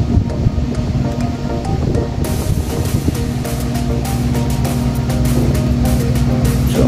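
A fan whirs with a steady hum and rushing air, the airflow growing stronger partway through, loud and close.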